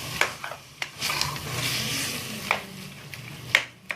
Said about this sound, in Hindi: वो ऐड करने के बाद हम सारी चीज़ें अच्छा से एक बार मिक्स कर लेंगे